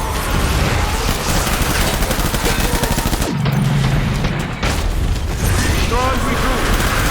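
Dense gunfire in the video game Death Stranding, loud continuous bursts and booms with a brief lull midway, under voices of people talking.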